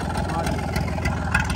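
A tractor engine runs at a steady, close, low throbbing drone, with a voice faintly present in the background.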